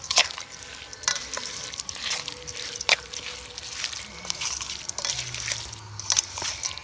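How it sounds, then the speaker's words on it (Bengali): Hot mustard oil hits chopped green chilies and spices, giving a bright crackling sizzle with scattered sharp clinks and stirring scrapes as the mixture is tossed together close up, with no talking. "এবার সেই গরম করে রাখা তেলটা আমি দিয়ে দেব এই লঙ্কার মধ্যে"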